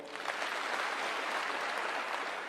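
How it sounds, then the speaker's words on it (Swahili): Large crowd at a centenary celebration in Kasarani stadium clapping, a dense, steady roar of applause sustained throughout. "pigieni yeye makofi."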